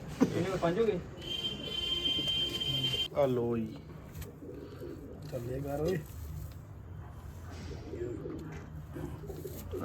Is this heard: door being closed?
no